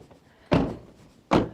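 Two Toyota 4Runner doors slam shut at a campsite, one after another: two loud, heavy thunks about a second apart, each with a short ringing decay, close by and with no talking.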